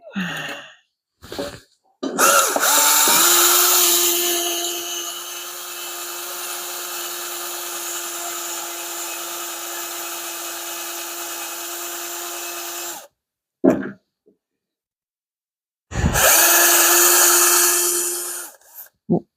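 A power drill boring into aluminum for a Mopar bellhousing conversion whines steadily for about ten seconds, then stops; short bursts follow, and a second run starts near the end, close and loud.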